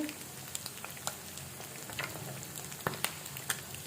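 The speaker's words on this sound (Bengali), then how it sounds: "এখানে মাছ ফ্রাই করা হচ্ছে" Fish pieces frying in hot oil in a pan, a continuous close crackling sizzle dotted with sharp spattering pops throughout, with no voices.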